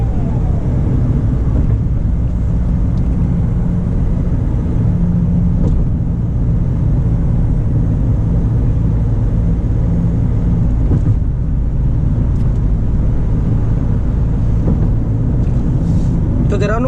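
A Mahindra XUV500 diesel SUV cruises in fifth gear, giving a steady low engine and road drone heard from inside the cabin with no break for nearly seventeen seconds.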